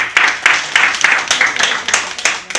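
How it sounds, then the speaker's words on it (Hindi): An audience at an insurance agent training session breaks into loud applause. Dense, rhythmic clapping pulses several times a second and fills the whole stretch at a strong, steady level. "जोरदार तालियां।"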